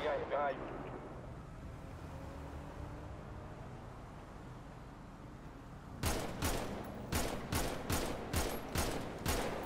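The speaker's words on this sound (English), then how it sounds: "Shots fired." Rapid bursts of gunfire from a police shootout in GTA RP crack out near and loud in a tight volley, after a stretch of low ambience with a voice speaking early on.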